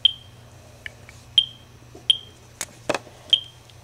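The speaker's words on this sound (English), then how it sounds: "It's kind of a higher pitch click than what a normal, like, civil defense Geiger counter would be like." A Ludlum Model 3-6 Geiger counter gives sparse, irregular, high-pitched ringing clicks, about one every second, close and clear over faint background hiss.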